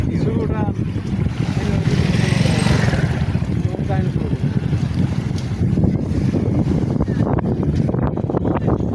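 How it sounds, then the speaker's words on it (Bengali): Strong wind gusting across a wide monsoon-swollen river in Bangladesh, with a boat on the water; loud continuous roaring buffeting on the microphone throughout, with faint voices in the background. "নদীতে প্রচুর বাতাস"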